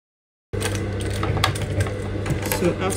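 A sewing machine runs steadily after a moment of silence, a fast mechanical stitching rattle with a low motor hum, stitching boning channels into a transparent cupped corset.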